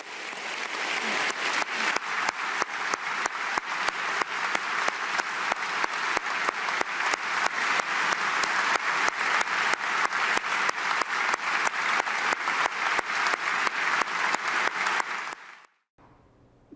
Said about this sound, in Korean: 자기가 동의하는 말이 나오거나 좋은 말이 나올 때마다 기립박수를 치는 문화도 볼 수 있고요